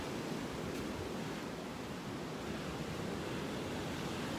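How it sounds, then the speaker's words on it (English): Wind at a beach in North Naples, Florida, blowing as a steady, even rush of broadband noise with no breaks and no talking. "That's part of being at the beach, the wind."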